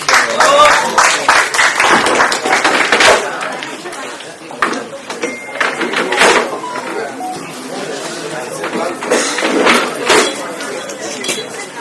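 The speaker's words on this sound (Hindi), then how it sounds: "तो जोरदार तालियों से स्वागत करें स्तुति चौरसिया फ्रॉम MSc सेमेस्टर 3" Audience applause and clapping welcome the next performer at a Geology Department alumni meet at the University of Lucknow, sustained and fairly loud with crowd chatter and occasional clinks mixed in.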